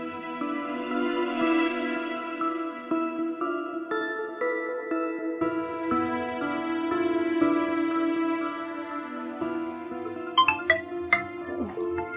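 A phone rings with a melodic electronic ringtone, sustained tones stepping through a tune at moderate volume, with a few brief clicks toward the end.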